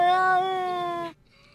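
A cat gives one drawn-out, tonal meow, close and clear, lasting about a second before it stops abruptly.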